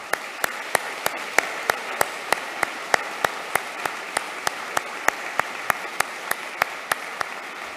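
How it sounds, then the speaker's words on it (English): Audience at a UNSW graduation ceremony applauds PhD graduates and their supervisors, a sustained even wash of clapping with distinct individual claps popping out at a regular pace from nearby hands. "I believe those who've achieved this deserve another round of applause"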